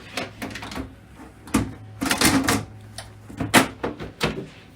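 Computer case back panel being closed, a series of close plastic and metal clacks and sliding thuds, some sharp, spread irregularly with short gaps and no talking.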